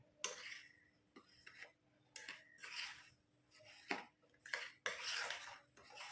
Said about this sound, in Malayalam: ഇത് നല്ലതുപോലെ ഒന്ന് മിക്സ് ചെയ്യാം